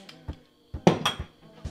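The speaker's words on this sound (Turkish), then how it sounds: "Şimdi kapağını kapatıyorum" A lid set onto a cooking pot while bulgur-stuffed chard rolls are prepared: a few sharp metallic clinks and knocks, one louder clatter in the middle, with brief pauses between.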